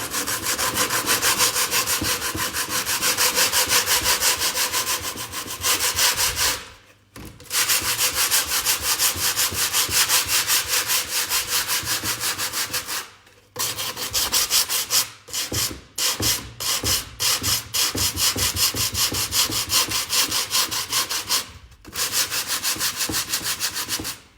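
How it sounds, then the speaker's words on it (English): Steady, rough scraping of 80-grit sandpaper worked by hand over wood, in long continuous strokes broken by a few short pauses, close and loud. "I'm going to sand now."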